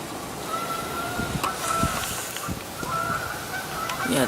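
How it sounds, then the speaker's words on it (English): Geese honking repeatedly outdoors in falling snow, several loud calls over a steady hiss of background noise. "oh look, the ducks and the geese."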